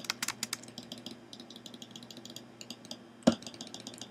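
Sharp, dry clicks of a computer mouse during a game: a quick cluster of several clicks at the start, scattered lighter taps after, and one louder click near the end, close and isolated over a faint background hum.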